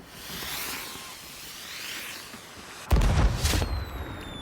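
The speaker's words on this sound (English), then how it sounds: "You're running off fireworks while I'm greeting raiders?" Fireworks set off in a video game: a sharp boom followed by crackling bursts and whistling streaks, heard close and loud after a stretch of quieter whooshing ambience.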